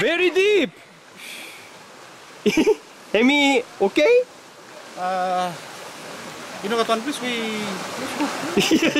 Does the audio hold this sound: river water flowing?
yes